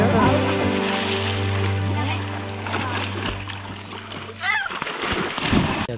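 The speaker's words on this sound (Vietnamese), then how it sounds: "Giờ đây mình đang ngồi ở trên bờ xem mấy đứa nhỏ nó bơi dưới sông nè." Children swim and splash in a river, with watery slaps and churning heard from the bank under a sustained droning hum and bursts of voices and shouting.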